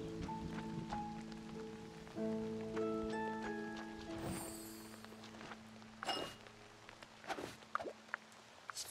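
Rain in the farming video game Fae Farm during autumn: a soft, steady patter that sits faintly under light game music tones and occasional footstep-like taps.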